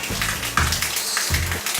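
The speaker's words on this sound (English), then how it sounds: "It's just straight, pure, cold water." Cold water runs from a shower in Cuba in a steady, close hiss, with a few louder splashes breaking through.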